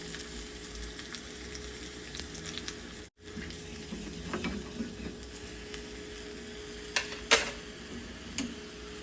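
Steady oil sizzling and crackling in a pan as cumin, curry leaves, green chili and asafoetida fry, with a few sharper pops and spits near the end and no talking.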